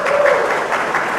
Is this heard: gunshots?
no